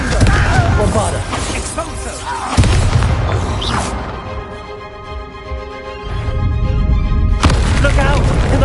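A deep booming blast from the Bombarda spell in Hogwarts Legacy rolls through loud battle noise, then fades into a low rumble before the din swells again, with voices shouting over it.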